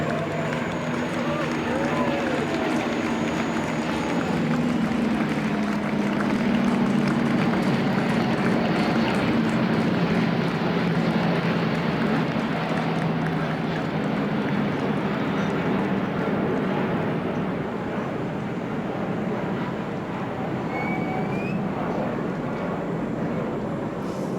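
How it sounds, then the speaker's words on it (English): Steady, loud engine roar and broadband rush from a chase airplane flying alongside an Airbus A350 in flight, with muffled voices underneath. "the chase airplane is making more noise than the A350"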